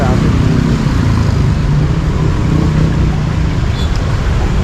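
Heavy road traffic during a town festival eve forms a dense, continuous roar that stays loud and steady throughout.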